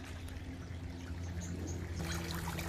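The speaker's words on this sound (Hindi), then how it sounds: "ये है मेरी वाटरफॉल" A small decorative waterfall at the entrance of a rooftop garden pours steadily, producing a continuous close splashing trickle with no pauses.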